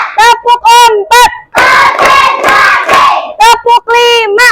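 A class of children claps together in a burst of rapid hand claps on a teacher's count, framed by short sung or chanted voices before and after.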